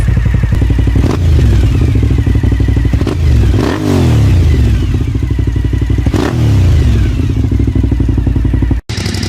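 Cagiva Raptor 1000 motorcycle fitted with Venom exhaust tips, revved hard up close: a loud rumbling idle broken by several sharp throttle blips that rise and fall, with a brief dropout near the end.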